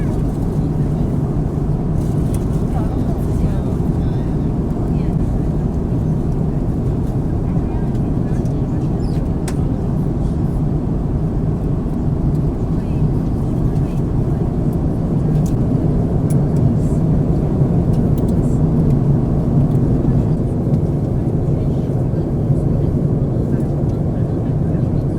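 An Air China airliner landing into Hong Kong, heard from inside the cabin as a steady, loud low engine and airflow roar that continues without a break.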